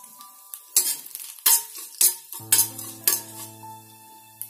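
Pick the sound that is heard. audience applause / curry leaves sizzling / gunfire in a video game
curry leaves sizzling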